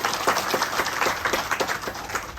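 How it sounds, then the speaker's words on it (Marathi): Audience at a Buddhist dhamma sermon clapping together, a steady, moderately loud patter of many hands that continues through the short stretch. "एकदा चारशे ताई आणि चारशे सरांसाठी एकदा टाळ्या वाजवा सर्वांनी"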